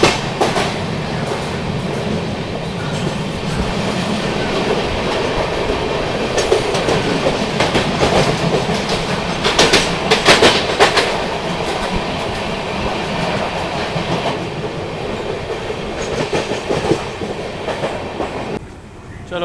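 A Mumbai AC local train runs on its rails near CSMT station, giving a loud, continuous roar with rhythmic clickety-clack from the wheels and brief rattling surges, heard from inside the coach over nearly twenty seconds.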